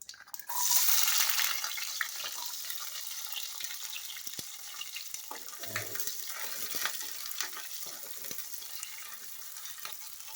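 Mustard seeds and urad dal splutter in hot oil, a close, steady crackling sizzle with scattered small pops that starts abruptly and carries on alone at an even level.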